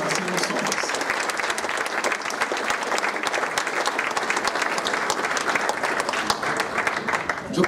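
Audience applause at a tenth-anniversary celebration in Bustamante, Nuevo León: a full, sustained round of many hands clapping evenly throughout, fairly loud and continuous, with faint voices mixed in.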